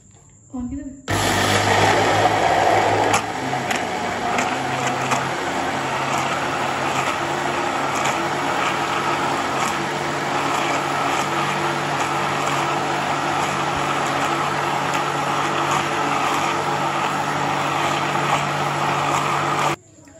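An electric blender runs steadily for nearly twenty seconds, mixing an apple and banana milkshake with milk. The loud, constant whir starts abruptly, rattles briefly near the start and cuts off sharply at the end.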